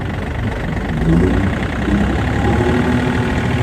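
Engine of a tractor running a Frontier RC 2060 bush hog with the PTO engaged, a steady low drone that swells slightly as a little throttle is added, continuous and fairly close.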